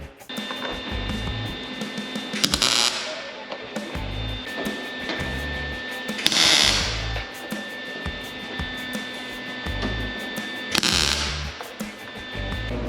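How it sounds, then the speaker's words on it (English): Sheet metal cab corner being welded onto a 1930 Dodge coupe, heard as three short, loud crackling weld bursts spaced a few seconds apart over a steady electrical hum. "Now I'm just going to weld this in place permanently."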